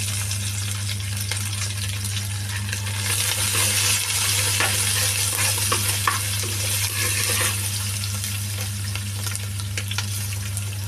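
Ginger, garlic and green chilli frying in a pan, a dense bright sizzle with scattered light clinks and stirring scrapes over a steady low hum, close and continuous without speech.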